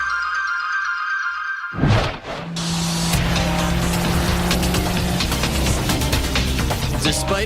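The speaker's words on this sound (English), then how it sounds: "This is a Ferrari 250 GTO. Series 1." A Ferrari 250 GTO Series 1 passes with a sustained engine roar after a sudden cut from a musical tone. The engine stays loud and close, with a steady low drone and rising mechanical rasp.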